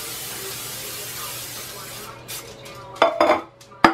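Non-stick cooking oil is sprayed from a can onto a six-cup muffin tin in a home kitchen, a steady close hiss lasting about two seconds, followed by a few clattering knocks of metal.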